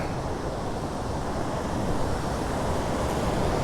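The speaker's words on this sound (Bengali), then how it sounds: "এই আমাদের হোটেলের পিছন দিয়েই এই নদী বয়ে গেছে।" The Kali Gandaki river rushes behind a hotel between Tatopani and Ghasa in Nepal, a steady, dense roar of moving water that stays close and continuous, with some wind noise mixed in.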